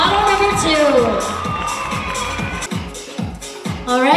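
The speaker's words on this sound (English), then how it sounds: "let's give a big round of applause once more for model number two" Crowd at a Hmong fashion competition cheers and whoops for a model walking, loud and sustained, with children shouting among the clapping and the noise swelling again at the end.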